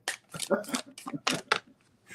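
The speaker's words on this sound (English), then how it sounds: "I am actually shuffling these cards" Tarot cards shuffled by hand in a series of quick riffling bursts, close and crisp, with a voice talking over them.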